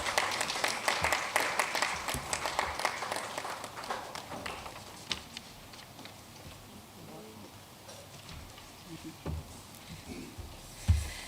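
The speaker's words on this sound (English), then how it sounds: "Shall we welcome her with a round of applause?" Audience applause welcoming a speaker at a health survey results event: a burst of clapping that starts fairly strong and thins out over several seconds into scattered claps and room noise.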